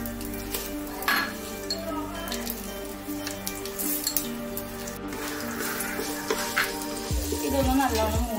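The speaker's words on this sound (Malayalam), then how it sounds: "ഡാൽഡ നല്ലോണം മെൽറ്റ് ആയിട്ടുണ്ട്. നമുക്ക് ഇതിനകത്തോട്ട് സ്പൈസ് ചേർത്ത് കൊടുക്കാം." Spices fry in melted Dalda for a paneer dum biryani, giving a close, continuous sizzling crackle with light clinks and stirring of a utensil against the pot.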